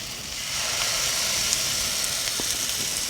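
Coconut oil sizzles steadily in a hot pan of banana pancakes, a close, even frying hiss running throughout with a few faint pops and a small clatter at the very end.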